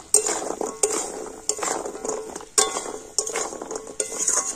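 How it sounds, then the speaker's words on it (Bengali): Sweets being stirred through sugar syrup in a pan, with repeated soft scraping and clinking of a spoon against the pot, close and steady, no talking. "আর এবার আমি মিষ্টিগুলো চিনির শিরার মধ্যে খুব সুন্দর করে এইভাবে নাড়াচাড়া করে নেব"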